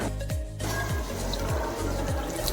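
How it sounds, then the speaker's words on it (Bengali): Water runs steadily from a tap as hands are washed beneath it at a school during a Saraswati Puja celebration, a close continuous splashing stream with a few soft repeated gurgling dips. "হাত ধুয়ে নিলাম এখানে।"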